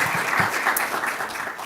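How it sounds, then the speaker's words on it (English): Audience applause at a 2024 Code for Earth final event, a short burst of many hands clapping together, fairly loud and continuous throughout. "Just another round of applause."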